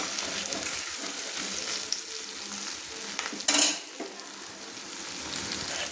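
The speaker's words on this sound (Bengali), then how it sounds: "দিয়ে আমি ভালো করে কিন্তু মশলাটা আমি কষিয়ে নিচ্ছি।" Chili powder and cumin powder frying in a pan for a fish-head curry with pumpkin and Malabar spinach, a steady hiss of sizzling with soft stirring scrapes and one brief louder clatter midway, no talk.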